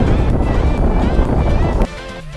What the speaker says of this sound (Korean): 바람이 꽤 부네요